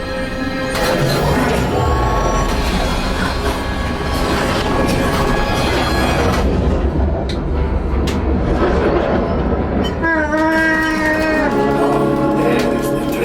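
A train roars and rumbles through the Star Wars Galaxy's Edge ride simulator, loud and dense with crashes and effects, then a tonal whine near the end, over faint crowd and voices.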